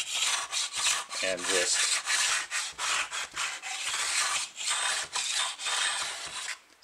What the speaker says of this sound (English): what's been working better is just this block sander